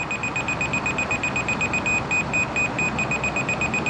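Steady, loud pulsing electronic beeps from a laser level receiver at a concrete pad build site, repeating rapidly and evenly with no pauses over a low outdoor background hum.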